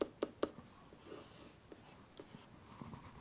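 A pen sketches a quick parabola graph, with a few sharp taps at the start and then soft scratchy strokes, faint and close, with quiet voice traces underneath.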